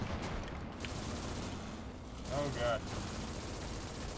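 Machine gun fire in the WWII strategy game Call to Arms – Gate of Hell: Ostfront, heard as a short burst of rapid shots among battle noise, with a player's voice speaking over it.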